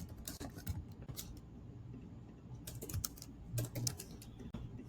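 Quiet, close tapping on a phone or keyboard in short bursts of keystrokes with brief pauses between, with no voices.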